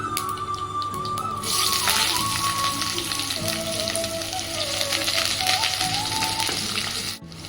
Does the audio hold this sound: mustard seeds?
yes